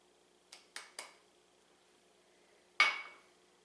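A spoon or whisk clinks against a bowl while thyme and rice wine vinegar are mixed, three quick taps in a row followed by a louder, ringing clink after a pause, close and otherwise quiet.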